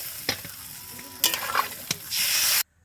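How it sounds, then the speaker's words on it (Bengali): Sizzling in a pan with a few sharp clinks, then a loud, steady surge of hissing as water is poured onto potatoes frying in hot oil, cutting off abruptly. "এখন জল দিয়ে দিব কারণ আলুটা আমার ভাজা হয়ে গেছে"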